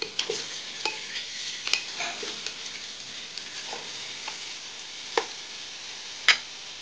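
Turmeric and Everest masala fry in oil in a pan for a country chicken curry, with a soft, steady sizzle broken by occasional sharp spoon scrapes and taps against the pan.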